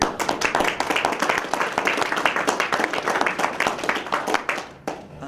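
Close, loud clapping from the audience at a Green Party state convention, many hands beating in a fast, slightly rhythmic pattern that holds for about five seconds before tapering off.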